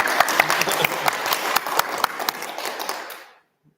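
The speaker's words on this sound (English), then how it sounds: "Let's give another round of applause." Audience at a history workshop applauds in a dense burst of clapping that holds steady for about three seconds, then quickly fades out.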